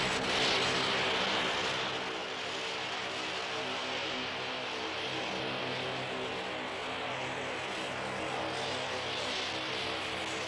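Propeller engines of a Skyvan transport aircraft in Oman, 1971, droning in a steady, fairly distant hum with a faint airscrew buzz and no talking.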